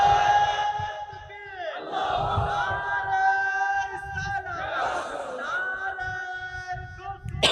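A large crowd at a religious gathering roars Allahu Akbar in unison, a long chanted swell of many voices repeated twice, loud and reverberant.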